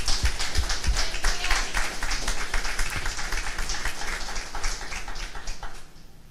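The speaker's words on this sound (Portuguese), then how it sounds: "Pode aplaudir a palavra de Deus." A church congregation breaks into dense, sustained applause that is loud and crackling throughout, then dies away at the end.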